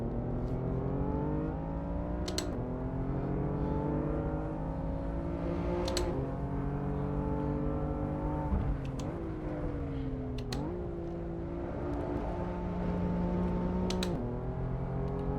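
A BMW M4 race car in the Assetto Corsa racing game at Barcelona, its engine droning steadily throughout with repeated shifts and revs rising and falling, with brief clicks over the top.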